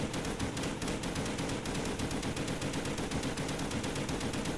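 Rapid continuous automatic fire from an AUG rifle in a zombies video game, a dense, steady burst of shots throughout with no talking.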